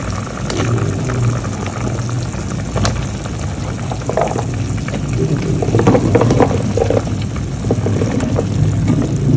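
A pot of water at a rolling boil for a bottle gourd (upo) dish, with continuous bubbling and gurgling close by and a faint steady high whine behind it, with no talking.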